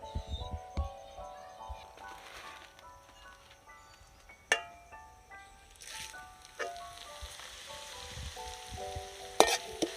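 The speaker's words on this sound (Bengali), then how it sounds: "যেভাবে ভাজছি আপনারাও কিন্তু বাড়িতে এইভাবে সহজেই ভেজে নিতে পারেন চিড়ে" Flattened rice fries in a pan at home with special spices, giving a soft scattered crackle and a few sharp clinks, heard under steady tonal background music with no talking.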